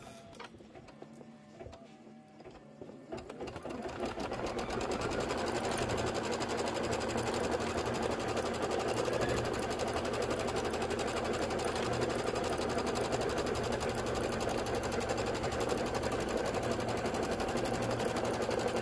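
An embroidery sewing machine stitches a placement line on a pet pouch project. It starts with a few quiet clicks, then settles into a fast, steady, close mechanical whirring hum that runs on unbroken.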